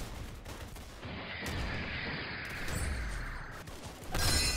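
Gunfire rattles during a headshot in the Roblox game Arsenal: a sustained burst of shots with a mechanical whir, ending in a louder crash, and nobody speaking.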